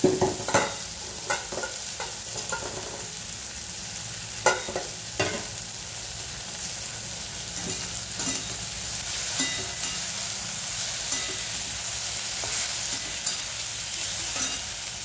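Okra (bhindi) stirred and frying in a pan with green chillies and red chilli powder, a steady sizzle broken by repeated scraping stirs of a spoon against the pan, close and alone without talk.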